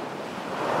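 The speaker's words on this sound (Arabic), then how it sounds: "في حاجة في هوا البحر وصوته بيخلي الواحد داري بيروح" Sea waves wash at the shore under strong wind buffeting the microphone, making a broad, steady roar that swells slightly toward the end.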